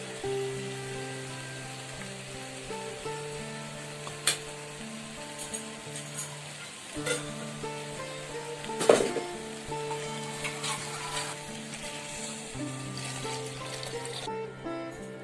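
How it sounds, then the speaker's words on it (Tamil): Steady sizzling of drumsticks (moringa pods) sautéing in a pan, with occasional clinks of a utensil stirring against the pan. "காய் போட்டு முருங்கக்காய் நல்லா வதங்கட்டங்க"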